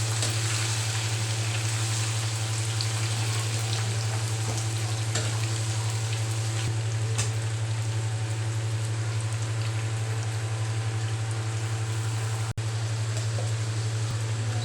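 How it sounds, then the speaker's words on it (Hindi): Onions sizzle in hot oil in a pan, browning to golden for a chicken biryani with potatoes; a steady, even frying hiss runs close and constant throughout with no voices. "प्याज को गोल्डन कलर किया।"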